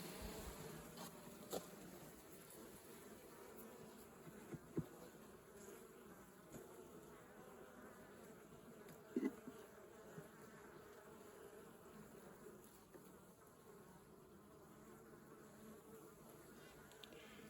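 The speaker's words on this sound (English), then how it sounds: "a lot of bees with nothing to do." Honeybees buzz during a winter beehive inspection, a low steady droning hum from many bees close by, with a few faint clicks and knocks scattered through and no talk.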